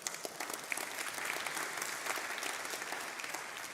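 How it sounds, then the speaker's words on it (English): A live audience bursts into applause, a dense, steady patter of many hands clapping at moderate distance for a few seconds, unbroken by talk. "Yeah, you can clap."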